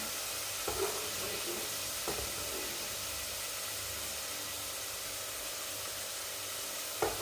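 Continuous sizzle of eggplant frying in oil with a bright, steady hiss, broken by a few soft clinks of a utensil.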